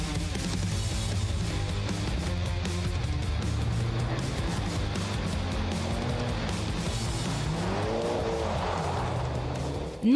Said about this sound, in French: Werner Gusenbauer montre aux novices du drift comment s'y prendre.